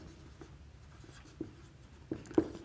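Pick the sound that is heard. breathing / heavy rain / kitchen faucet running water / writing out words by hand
writing out words by hand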